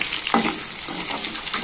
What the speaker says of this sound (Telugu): కట్ చేసి ఉంచుకున్న ఉల్లిపాయలు బాగా దోరగా వేగాలి.